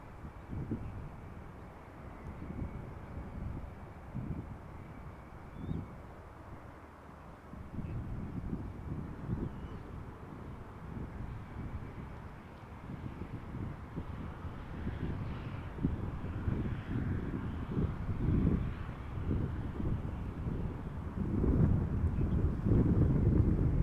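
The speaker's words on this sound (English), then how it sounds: "777 freighter. Left Dubai 6 hours and 24 minutes ago." A Boeing 777 freighter from Dubai at Amsterdam Schiphol Airport gives a distant low jet rumble that slowly swells over steady wind buffeting the microphone, faint and far off throughout.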